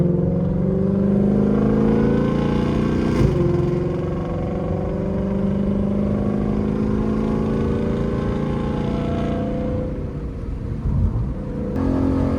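Engine of a Ford Shelby GT500 tuned past 1000 hp on a drive, a loud continuous rumbling drone heard from inside the car, easing slightly near the end with a brief thump, no talking.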